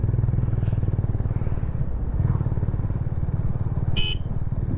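A motorcycle rides along a winding mountain road, its engine droning steadily and close throughout, with a brief high horn-like blip near the end.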